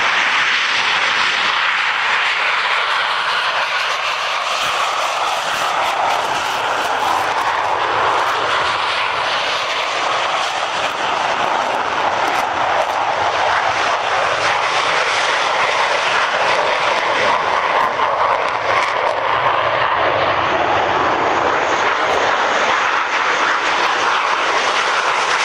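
A Hawker Hunter jet of Team Viper rolls for its air show display at Dunsfold, a loud sustained jet engine roar that swells and shifts over the whole stretch with no talk.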